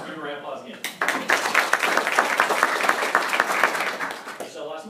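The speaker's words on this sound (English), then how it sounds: "Give her a round of applause again." An audience at an insurance training meeting applauds for several seconds, a dense wash of many hands clapping at close range. Speech is heard briefly at the start and end.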